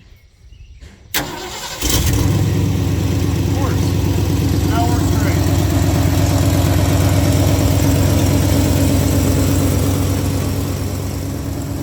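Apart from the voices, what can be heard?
old truck engine starting and idling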